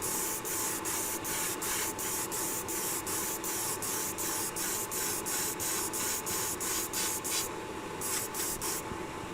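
Airbrush spraying paint through a 0.4 needle onto a black spoon, a steady close hiss broken by rapid regular pulses of the trigger, running continuously with no talk.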